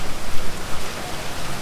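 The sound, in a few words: heavy rain falling while fishing in Thailand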